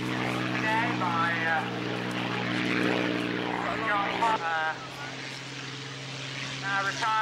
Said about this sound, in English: the Supermarine Spitfire 9 of the old Flying Machine Company being flown for us today